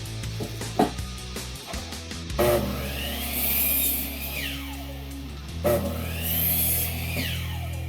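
Firewood pieces for a small cubic woodstove being sawn by a power saw, with two long cutting passes of loud, rising and falling grinding buzz, preceded by some brief knocks and handling clatter.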